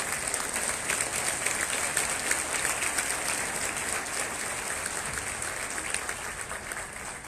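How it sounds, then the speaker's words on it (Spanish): Audience at a rheumatology medical symposium claps continuously, an even, moderately distant wash of applause from a seated crowd that fades slightly toward the end. "¿Me acompañan donde los aplausos,"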